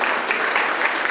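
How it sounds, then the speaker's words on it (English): Dinner event audience breaks into applause, a dense, even wash of many hands clapping close by, steady for about a second with no voices over it. "You can clap."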